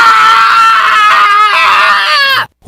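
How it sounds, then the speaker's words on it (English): A man screams with excitement as a sound effect in a radio advertisement, one loud, sustained, high-pitched wavering yell close up that cuts off abruptly into silence. "so pumped about the awesome things at Naughty Dog, he runs around town screaming with excitement"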